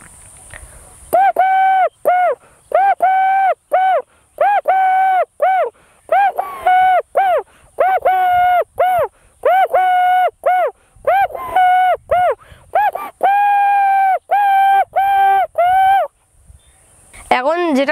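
A man mimics a dove's call in repeated, evenly spaced cooing hoots. The phrases are grouped in short runs, close and clear, with brief pauses between them.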